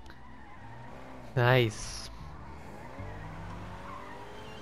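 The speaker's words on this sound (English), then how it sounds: "we got our very own car. With a broken tire." A car with a broken tire in the Fortnite video game gives one sharp, loud tire squeal partway through over a low engine hum, and a player briefly speaks.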